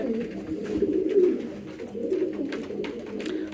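Pigeons coo softly and continuously nearby, low throaty rolling calls overlapping in a pigeon keeper's collection, with faint scattered clicks in the background.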